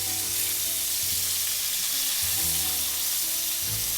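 Bacon grease sizzles and crackles steadily in a skillet, a dense close frying hiss that keeps going at an even level with low pops and shifts underneath, and no voices.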